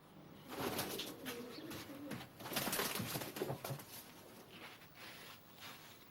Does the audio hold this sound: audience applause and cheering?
no